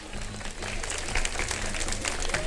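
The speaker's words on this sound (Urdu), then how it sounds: "ایک دفعہ اپنے لیے تالیاں بجاتے ہیں ذرا آپ لوگ" A studio audience at a televised Ramadan show breaks into sustained, loud applause, a dense wash of clapping filling the whole stretch without pause.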